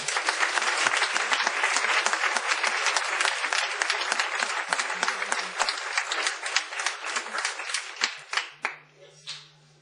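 Audience applause at a book presentation in Venta del Moro, a steady wash of many hands clapping that thins out near the end into a few scattered claps, with faint voices underneath.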